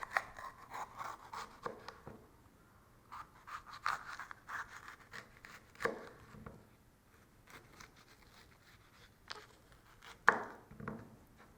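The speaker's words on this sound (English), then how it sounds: "I cut through along the sides of the core" A knife slicing through a washed bell pepper along the sides of its core, scattered crisp cuts and soft scrapes on a board, quiet and close with pauses between strokes.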